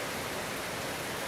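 Steady, even hiss of rain falling outdoors, continuous throughout with no voices.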